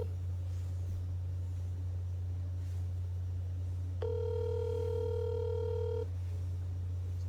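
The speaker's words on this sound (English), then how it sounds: "Got a dial tone." A telephone dial tone hums steadily on a landline call, a low continuous tone under a quiet background, joined midway by a brighter higher tone for about two seconds.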